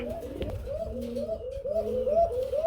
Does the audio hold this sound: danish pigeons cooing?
yes